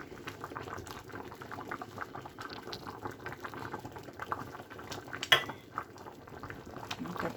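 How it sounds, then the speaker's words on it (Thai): Steady bubbling of water at a rolling boil in a pot, continuous and close, with a brief clink of metal partway through. "น้ำเดือดปุบปะปุบปะอยู่นี่จ้ะ"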